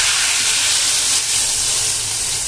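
Hot ghee tadka hisses and sizzles loudly and steadily as it is poured over Gujarati tuvar dal, a dense continuous crackle that fills the whole short stretch with no talking.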